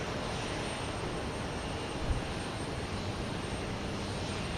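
An airliner passes at Houston Intercontinental airport with a steady, broad engine roar that holds evenly throughout, loud and close, with no voices over it.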